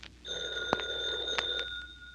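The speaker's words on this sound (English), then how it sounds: "There's the phone" Telephone bell ringing in an old-time radio comedy show: a bright electric bell rings in one sustained burst of about two seconds, fairly close and clear, with no talking over it.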